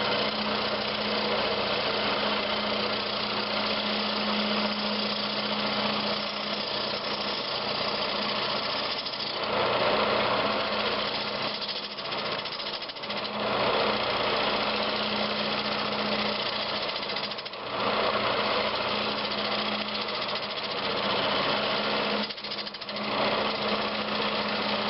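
Continuous loud drone of a wood lathe roughing out a green log bowl with a 3/8 gouge, a steady hum and chatter of the tool cutting with brief dips in intensity.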